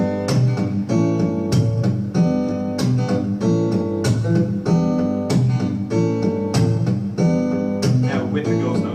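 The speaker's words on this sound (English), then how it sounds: "the groove as it is right now with no ghost notes sounds like this" A funk guitar groove played without ghost notes at a guitar workshop: a loud, steady run of rhythmic strummed chords with clear repeating accents, played throughout and without voices.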